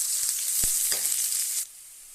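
Chopped onions sautéing in a hot pan for arai keerai poriyal, a steady close sizzle with a couple of brief stirring knocks, dropping to a softer hiss near the end.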